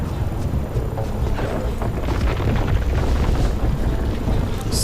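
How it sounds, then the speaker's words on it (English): Explosions in the Rift: Planes of Telara fantasy game, a continuous low rumbling roar with scattered dull booms and bursts, steady and fairly loud throughout. "Some explosions and stuff going on everywhere."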